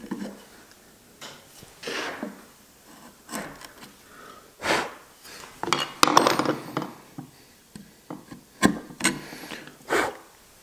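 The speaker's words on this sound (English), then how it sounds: "a nice sharp chisel to get a nice finish on the timber" A sharp chisel pares timber while a casement window fastener plate is fitted, giving a string of irregular close scraping cuts and light taps, some louder and crisper than others, with nobody talking.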